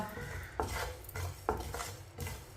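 A metal spoon scrapes and clatters against a pan while spices are stirred and roasted for fried fish, with a few distinct scraping strokes over a low steady background.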